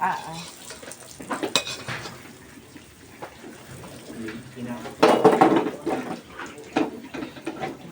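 Leftover rice being reheated in a pan, with clanking utensil strokes and a soft sizzle, while people talk quietly nearby.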